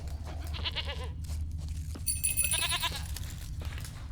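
Goat bleating in The Witcher 3 video game, with several short, wavering bleats at close range over a steady low ambient rumble.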